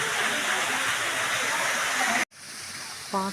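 Continuous rushing of water falling inside a cave fills the space, then cuts off abruptly to a quieter ambience with a brief voice at the end.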